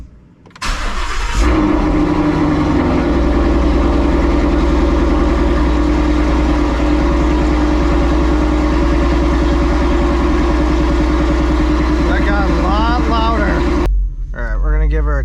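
Car engine cranks and starts after a spark plug change, then runs at a loud steady raised idle held near 3,500 RPM for about twelve seconds before dropping back, with a rev change near the end.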